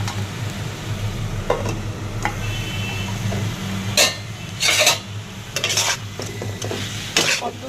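Red amaranth greens are stirred in a pan, giving scraping clatters of a utensil against the pan in irregular bursts over a low, steady frying hiss.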